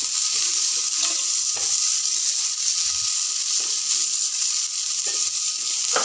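Onion frying in hot oil in a home kitchen, a loud, steady sizzle lasting throughout, with occasional faint stirring clicks and no voices.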